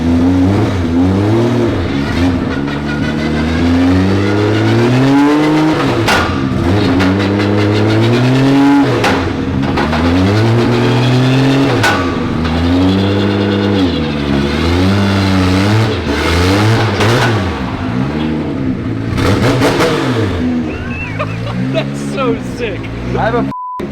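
A 1000 HP JZ-engined pro car revs hard and pulls through repeated rising and falling gear runs on a first test drive, loud and close inside the cabin, with excited talk over the engine.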